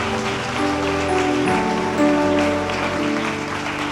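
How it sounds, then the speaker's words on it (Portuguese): Steady, loud applause from a large church congregation during a sermon, continuous throughout with a warm wash of music or sustained tones underneath. "Você pode dar uma salva de palmas e exaltar a Jesus"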